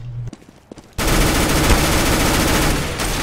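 Gunfire in the video game CS:GO: after a few scattered faint clicks, a loud sustained burst of rapid automatic shots starts and rattles on without a break.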